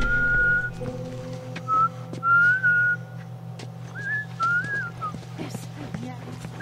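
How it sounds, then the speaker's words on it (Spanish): A person whistles a bright, wavering tune in short phrases, close to the mic, over a steady low hum and some background noise, during The Last of Us gameplay. "Estoy silbando."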